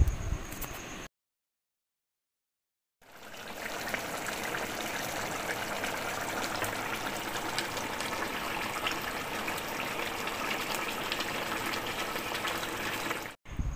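Spicy Bhola fish curry simmers in a pan after cumin powder and coriander leaves have gone in. A steady close bubbling and sizzling hiss fills the clip, with one short pause near the start and no talk.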